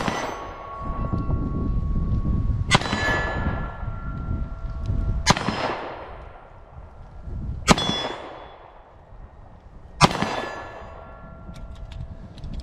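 Pistol shots from a Sig P365 XL or Springfield Hellcat fitted with a micro red dot, loaded with five rounds per magazine: five sharp, loud reports spaced about two and a half seconds apart, each ringing out with a decaying echo.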